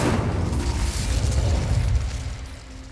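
A fiery Incendio spell from the Hogwarts Legacy video game erupts in a loud, booming burst that rolls on for about two seconds before easing into a fainter rumble.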